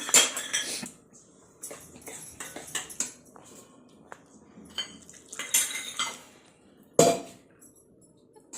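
A spoon scrapes and clinks against a bowl in irregular bursts while rice flour, rava and yogurt are mixed into a batter, with one sharper knock near the end and quiet pauses between strokes.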